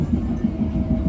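A passenger train pulling away from Kurai Taji station rumbles loudly from close by, with rhythmic wheel clatter and a low continuous drone from inside the carriage.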